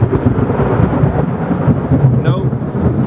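Thunder rolls loudly through a thunderstorm as a continuous deep rumble over steady rain, with no speech.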